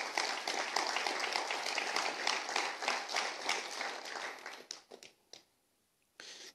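A church congregation claps together in dense, sustained applause for about five seconds, then it thins out into a few scattered claps and falls quiet before a brief swell returns at the end.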